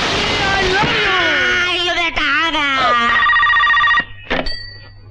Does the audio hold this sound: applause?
no